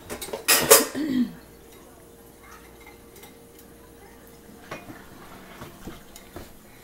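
A utensil stirs food in a pot with a short, loud burst of scraping and clanking near the start. Softer, scattered taps and clinks follow in a quiet kitchen.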